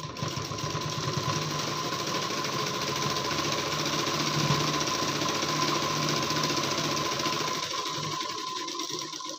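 A sewing machine stitches a designer collar blouse, a close, steady mechanical whir with a fast rhythmic needle chatter that runs continuously and winds down near the end, with no voices present.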